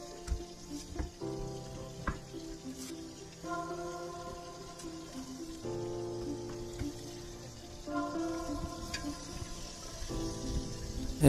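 Cooking aboard a fishing boat at sea, a soft steady sizzle of frying food with faint stirring clicks, against a sustained low engine hum and no talk.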